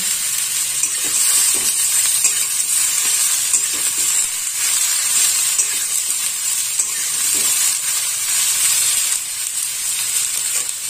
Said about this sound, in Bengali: বেগুনটা একটু ভাজা করে নেব।